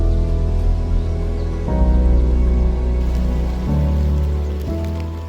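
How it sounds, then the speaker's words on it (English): Steady, dense rain drumming on a surface near Namche Bazaar on the Everest trek, a continuous wash of patter with a constant low rumble underneath. "a sudden and heavy downpour catches us completely off guard"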